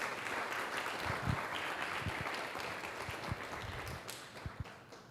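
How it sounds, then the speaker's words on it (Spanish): Audience applause during a Spanish-language church sermon, a sustained wash of clapping from a crowd, moderately distant and even throughout. "luego del aplauso"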